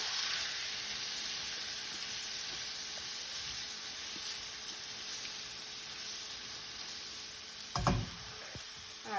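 Onions cooking in a pan over medium heat, a faint continuous sizzle with a brief clatter near the end, as if stirred.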